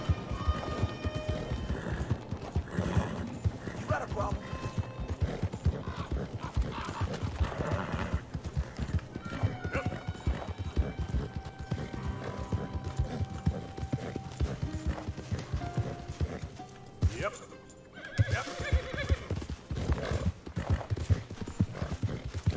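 Horse hooves clip-clop steadily on the ground in Red Dead Redemption 2, a continuous rhythmic trot with occasional whinnies, mixed with game ambience and a brief drop near the end.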